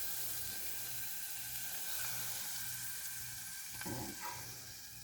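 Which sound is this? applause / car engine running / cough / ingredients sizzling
ingredients sizzling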